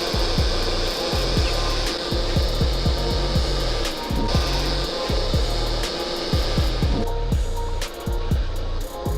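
Hot air rework station blowing onto flux during water damage repair, a steady loud airflow hiss with rapid scraping and rubbing clicks running through it, close up and without talk.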